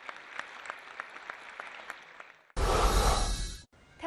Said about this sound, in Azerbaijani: Çünki gələn gürültülü alqışlar bundan xəbər verirdi.